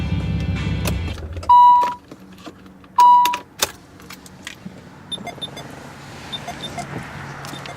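A 1993 Nissan 300ZX Twin Turbo's engine rumbles briefly, then cuts off within the first second. Two loud electronic chimes follow in the quiet cabin, with scattered clicks and faint rustling.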